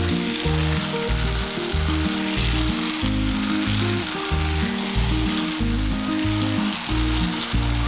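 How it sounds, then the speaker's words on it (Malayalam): Soy sauce, chilli sauce and tomato ketchup are stirred into a hot pan for sesame chicken, giving a loud, steady close sizzle with rhythmic scraping of the spoon throughout, and no voices. "അതിനുശേഷം ഇതെല്ലാം കൂടെ ഒന്ന് മിക്സ് ചെയ്തെടുക്കാം"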